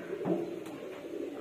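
Pigeon chicks giving a short soft cooing call, faint and brief against a quiet background hiss.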